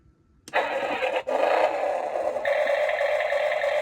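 After a sharp click, a small electric motor in an RC forklift whirs to life with a steady high-pitched hum that briefly dips, then rises in pitch and continues.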